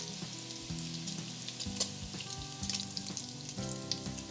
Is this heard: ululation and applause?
no